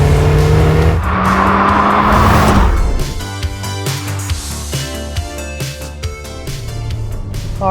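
A 1990 Toyota MR2 SW20 engine revs hard and loud, climbing in pitch, then settles into a lower, steady drone with shifting throttle as the car drives on.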